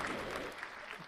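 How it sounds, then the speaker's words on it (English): Brief, faint clapping from a small group in the background of a paranormal radio show, a soft patter of hands lasting about a second. "Behind us is clapping"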